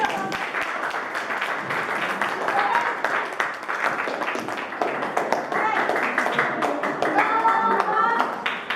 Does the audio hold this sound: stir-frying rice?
no